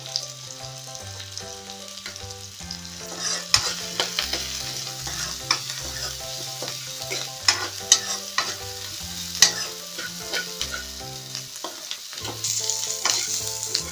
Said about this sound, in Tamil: இப்போ இந்த வெங்காயம் வதங்கிட்டு இருக்கட்டும்.